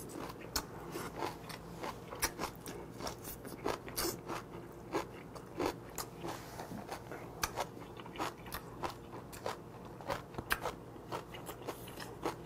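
Someone chews a seasoned salad of lightly blanched water parsley, vegetables and octopus dressed with chili flakes, sesame oil and minced garlic at a mukbang. The bites are close, crisp and crunchy and repeat steadily without talk.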